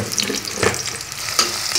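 Onions sizzle in a hot pan with a little salt while cooking for beef liver with moong dal, a brief close frying hiss broken by light stirring scrapes and pops, no talk.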